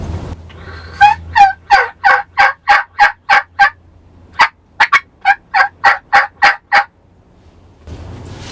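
Wild turkeys gobble in a long run of loud, rapid, rattling calls that pause briefly and then resume, heard close and clear on a quiet Kansas hunt with no talking.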